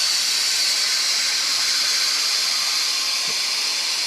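A Bissell steam mop set to full steam gives off a steady, loud hiss of steam from its head, continuous and close for the whole stretch with no voices.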